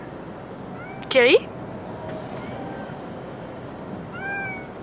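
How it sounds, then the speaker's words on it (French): A cat lets out one loud, drawn-out meow at home, followed later by fainter, softer mews, while a person speaks briefly nearby. "c'est horrible ces miaulements"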